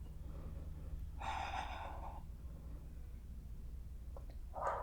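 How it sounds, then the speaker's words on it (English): Heavy breathing during a yoga hip and shoulder stretch in a flow class: a strong, drawn-out breath in the middle, a short quieter one near the end, and a sharper exhale that closes it, all close to the mic. "Keep breathing."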